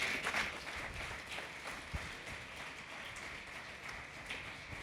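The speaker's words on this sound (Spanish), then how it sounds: "¿Cuántos dan un aplauso a Dios por esto?" Congregation applauding during a church sermon, a steady, fairly distant wash of clapping that holds evenly for several seconds with no talking over it.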